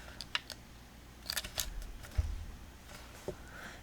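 Scissors snip through paper during a craft project, a few quick crisp cuts spaced across a quiet tabletop scene with no talking.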